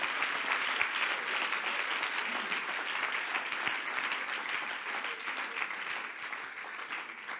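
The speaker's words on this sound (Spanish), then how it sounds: "Dele fuerte el aplauso al Señor" A church congregation claps loudly and steadily together, a sustained even wash of applause lasting several seconds with no talk over it.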